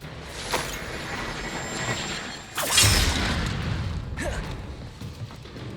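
Spell impacts in Hogwarts Legacy, with the Incendio fire spell landing as a whooshing burst followed by crackling rumble, among several sharp magical cracks and booms in a busy fight.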